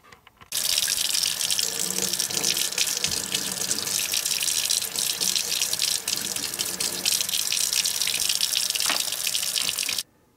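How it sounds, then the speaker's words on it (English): Steady running tap water splashes into a sink while a fig tree cutting is scrubbed with a toothbrush, a continuous close hiss lasting about ten seconds before cutting off. "give this a quick scrub with a toothbrush under running water"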